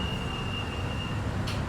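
A train at Surabaya Gubeng station in Indonesia gives a loud, steady rolling rumble of wheels on rails, with a thin, sustained high metallic squeal that fades out near the end.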